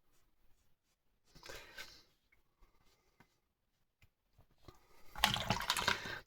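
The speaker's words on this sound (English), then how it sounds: "And rinse my brush out." A watercolour paint brush being rinsed in a pot of water: quiet sloshing swishes in two short bursts, the second louder and splashier, with faint clinks between them.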